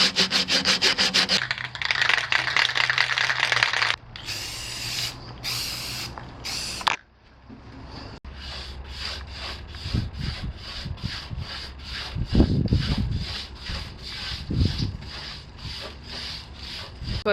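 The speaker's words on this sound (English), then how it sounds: "So I finished all the sanding" Sanding campervan parts on a GMC campervan: steady rubbing and scraping strokes, loud and close, with a short pause mid-way, then quicker rhythmic back-and-forth passes.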